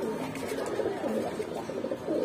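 Pigeons coo steadily at a Bengali pigeon seller's shop, a dense, continuous low burbling from several birds close by, with no clear talk over it.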